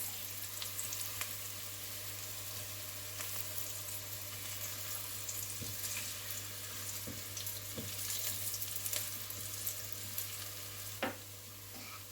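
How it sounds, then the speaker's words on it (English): Crushed garlic sautéing in a pan for tamarind rasam, a low steady sizzle with occasional light spoon taps and scrapes, moderately quiet and close, without talk. "10 pieces of ground garlic which is crushed. Let's saute it for 2 minutes."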